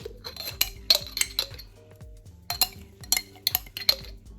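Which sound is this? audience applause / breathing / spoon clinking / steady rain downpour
spoon clinking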